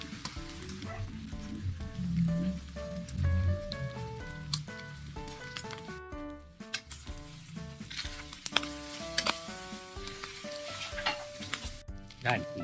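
Egg frying in a hot pan, a steady crackling sizzle with popping spatter throughout, close and continuous over background music.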